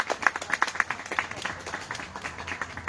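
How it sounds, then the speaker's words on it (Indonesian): Audience applause at a bonsai demonstration, a small crowd clapping in a quick, uneven patter at moderate distance, with scattered sharper claps standing out and fading toward the end. "Tepuk tangan."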